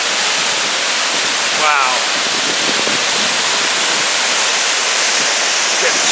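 Waterfall at Sasquatch Waterfall near a campsite: a steady, close, loud rush of falling water fills the whole stretch, with a brief exclamation from a person partway through.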